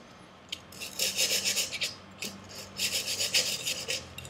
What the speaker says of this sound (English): I wished I had lower grit sandpaper, or rather coarser sandpaper, to do this reprofiling work